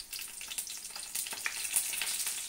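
Whole slit brinjals dropped into hot oil crackle and sizzle in a bright, close hiss, with small spatters and clicks as the pieces go in, and no voices.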